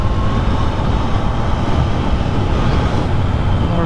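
A Triumph Trident 660 motorcycle pulls hard in fourth gear, its engine roar loud and sustained under heavy wind rush, rising steadily with no break.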